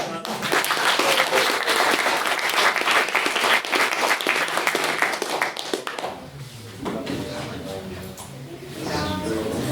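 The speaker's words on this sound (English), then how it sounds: "And round of applause for all speakers" Audience at a debate on nuclear disarmament gives the speakers a round of loud applause that drops off partway through, after which voices talk over the fading scattered claps.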